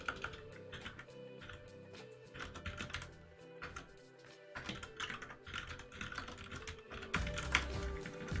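Steady typing on a computer keyboard, close up, with quick runs of key clacks and short pauses between bursts, and no talking.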